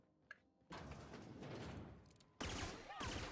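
Gunfire in The Outer Worlds, aimed at robots, comes as a dense, continuous rattle of shots after a quiet start, then surges louder near the end with a whining electronic tone mixed in. The whole passage sits at low level.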